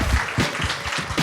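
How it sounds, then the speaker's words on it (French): Short burst of audience applause at a live podcast taping, dense clapping from a crowd with a few low thumps, moderately loud and continuous. "On peut l'applaudir."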